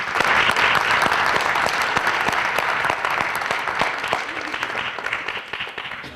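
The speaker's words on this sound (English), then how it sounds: "Let's give them a round of applause." Sustained applause from an audience at a high school National Letter of Intent signing day for student athletes, steady dense clapping that slowly thins toward the end.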